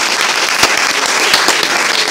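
Dense, loud clapping from an audience applauding students at Ideal School in Kuttippuram, a brief burst of rapid overlapping claps.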